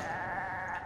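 A zombie goat in Resident Evil 5 lets out a short, steady, nasal bleat that fills under a second, fairly close, with no talking over it.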